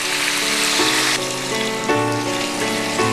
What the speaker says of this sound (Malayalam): അപ്പോൾ നന്നായിട്ടൊന്ന് മൂക്കട്ടെ